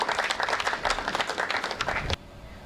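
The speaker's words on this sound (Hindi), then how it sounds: "एक बार दोनों हाथ उठाकर जोरदार तालियों से आप उनका स्वागत करें।" Loud audience applause at a Hindi poetry gathering, a dense crowd clapping vigorously and continuously before cutting off abruptly, leaving quiet hall ambience.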